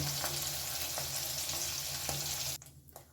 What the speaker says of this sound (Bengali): এইভাবে এই পাশটাও আমি ভেজে নেব পনিরগুলো ভাজা হয়ে গেছে